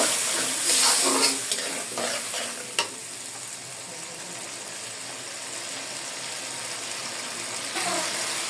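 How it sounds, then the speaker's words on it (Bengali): Oil sizzles and crackles in a pan as turmeric is sautéed with a little water, with stirring scrapes near the start, then a steady frying hiss continues alone. "একটু পানি দিয়ে আমি হলুদটাকে কষিয়ে নেব।"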